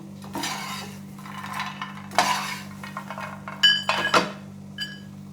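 Metal spatula scrapes and clinks against a kadai while fried makhana is lifted out of hot ghee. The scrapes come in several short bursts, the last few sharper and louder, over a steady low hum and no speech.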